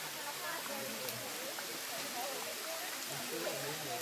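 A waterfall near Manker Flats mountain campground produces a steady, wide hiss of rushing water that runs unbroken throughout, with faint voices in the background.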